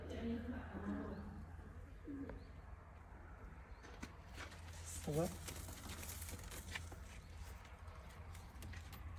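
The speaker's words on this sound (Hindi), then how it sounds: "हातिम का घर का सबसे अच्छा ब्रीडर कबूतर" Soft, low pigeon cooing rises briefly over a steady background hum, with scattered rustles and light knocks, fairly faint overall.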